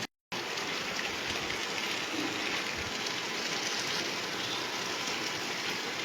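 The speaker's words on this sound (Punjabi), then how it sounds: "ਮੀਂਹ ਸ਼ੁਰੂ ਹੋ ਗਿਆ ਮੌਨਸੂਨ ਦਾ ਪਹਿਲਾ ਮੀਂਹ" Steady rain falls in a Malwa village during the monsoon's first downpour, a dense, continuous hiss close by that holds evenly after a brief silent gap at the start.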